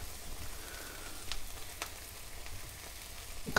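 Ground meat frying in a pan for lasagne, a steady close sizzle with a few sharp scrapes and taps of a utensil against the pan.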